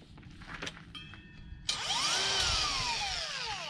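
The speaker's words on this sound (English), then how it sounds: "I'm just going to give this bucket of putty a whiz" A paddle drill mixes a bucket of lime putty. It kicks in partway through with a loud, close whine that rises and falls as the paddle churns, after a quieter stretch of background noise.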